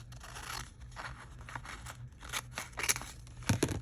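Scissors snipping through a paper music program pamphlet, a string of short, crisp cuts and paper rustles close by, quiet at first and sharper toward the end.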